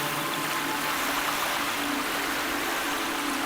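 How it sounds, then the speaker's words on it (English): Steady rushing water like a flowing stream, a continuous even wash of noise with no clear breaks, moderately loud and close, with no voices. "Can you hear the water streaming through your organs, your bloodstream,"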